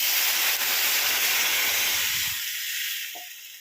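Steady bubbling hiss of water boiling in a pan for rice rava upma, loud and continuous, easing off slightly near the end.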